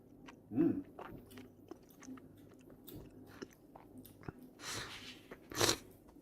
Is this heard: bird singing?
no